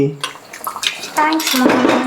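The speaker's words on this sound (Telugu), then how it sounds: "ఇప్పుడు కొన్ని వాటర్ యాడ్ చేసుకొని వంకాయలు బాగా ఉడకనివ్వాలి" Water splashes and pours into a cooking pot of stuffed brinjal curry, a short close burst of gurgling and sloshing with a faint metallic clink.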